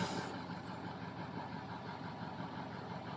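A 6.0 truck engine running just after starting, a steady, faint idle hum with a continuous even drone throughout.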